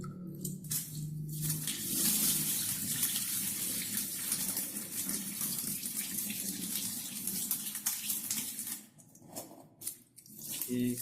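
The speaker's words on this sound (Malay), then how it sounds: "kemudian basuh pula dengan air yang lagi bersih" Tap water pours and splashes steadily as rice is washed in clean water, a close, continuous gushing rush that dips briefly near the end.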